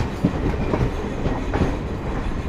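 An Indian Railways Garib Rath train running parallel to the Nilanchal Express from Anand Vihar to Puri, with a steady, loud rumble and continuous clickety-clack of wheels over the rails, and no talking.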